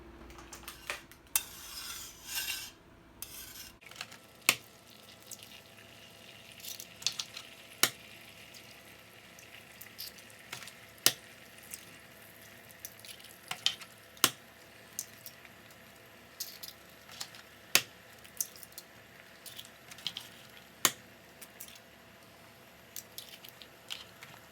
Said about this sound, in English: We'll scramble them in a frying pan and then let them cool.